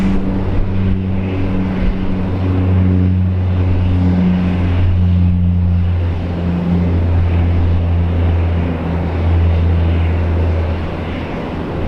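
An aircraft takes off at Brisbane Airport with a loud, steady engine roar and deep droning tones that hold for the whole stretch, with no voices.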